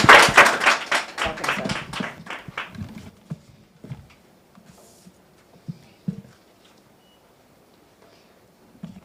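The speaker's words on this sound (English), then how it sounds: "Please welcome him with a round of applause." An audience at a peace initiative event gives a short round of applause: a few seconds of brisk, fairly close clapping that fades quickly into sparse isolated claps and near quiet.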